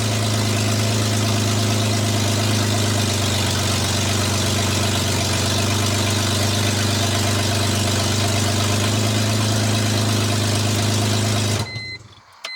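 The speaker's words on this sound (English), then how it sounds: "And that's a cold start, so it'll quieten down quite a bit." A Lexus IS300 with only headers fitted on the exhaust idles loud and close after a cold start, a steady low rumbling drone that holds evenly for about twelve seconds before it cuts out.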